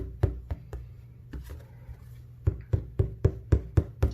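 A stretched painted canvas being tapped by hand, giving hollow, drum-like knocks with a short resonance; a few scattered taps at first, then a quicker steady series of eight or so louder, evenly spaced thumps near the microphone.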